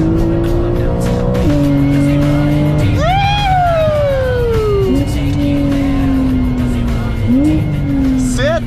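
A Porsche engine revs hard and accelerates, its rising and falling pitch sweeping up sharply then winding down, loud and close, with a second rev near the end and voices chattering underneath.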